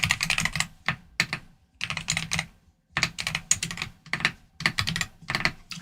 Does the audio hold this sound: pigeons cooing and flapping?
no